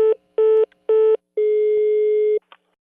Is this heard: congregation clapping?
no